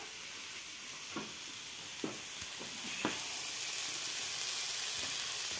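Steady sizzling of food frying in a pan, a continuous hiss with a few soft clicks and scrapes, no voices.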